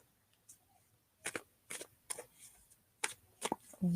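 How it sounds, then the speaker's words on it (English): A deck of tarot cards is shuffled by hand, giving a run of crisp, irregular riffles and snaps close to the microphone in a quiet room. "I will shuffle these cards and pull 2 cards for you."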